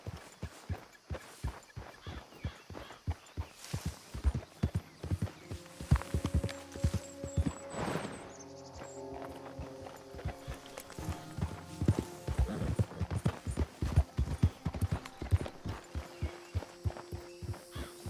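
Horse hooves clip-clop steadily and close in Red Dead Redemption 2, a brisk rhythmic walking beat that runs throughout, with a voice speaking briefly over it in the middle.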